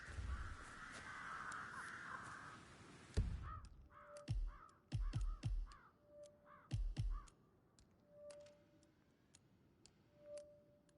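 Crows in the Hitman game caw in a quick series of sharp calls, with a few fainter caws and soft ticking following in a quiet setting.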